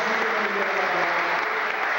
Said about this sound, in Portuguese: Vamos dar uma salva de palmas para Deus.